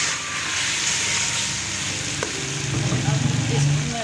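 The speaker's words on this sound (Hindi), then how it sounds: "ये सब्जी और चिकन की भुनाई अच्छी तरह हो गई है।" Chicken and vegetables fry in a pan for a curry with potato and peas, giving a steady, dense sizzle that continues throughout and is joined by a faint stirring scrape near the end.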